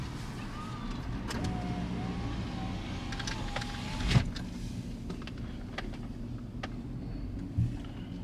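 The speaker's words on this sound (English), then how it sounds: "we'll go drive it hard and see if we can't get this mass airflow to read something out of whack" Chevrolet Silverado pickup with a 5.4 engine, heard from inside the cab as a steady low engine and road drone with faint whines and a couple of brief thumps, and no talk.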